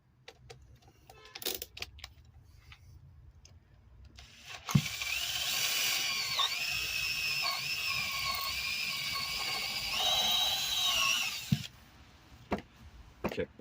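A power drill bores a hole through material, a steady, loud whining grind that holds for about seven seconds with small shifts in pitch, framed by quieter handling clicks and taps before and after.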